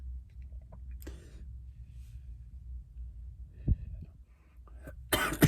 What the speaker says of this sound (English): that's when I start coughing.